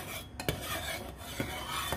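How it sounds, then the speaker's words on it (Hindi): A metal spoon stirs vanilla custard in a cooking pot, making a soft continuous scraping with a few sharper clinks against the pot. "आपने इस तरह चमचा हिलाते रहना कि नीचे ना लगे।"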